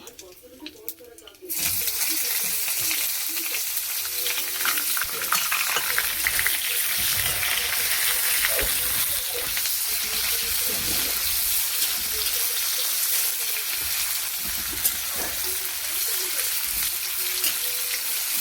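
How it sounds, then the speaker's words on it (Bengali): Chopped onion drops into hot oil in a pan and bursts into a loud, continuous sizzle after a brief quieter moment, holding steady throughout with faint stirring and a voice underneath. "পেঁয়াজ কুচি রেখেছি, পেঁয়াজটা দিয়ে দিচ্ছি।"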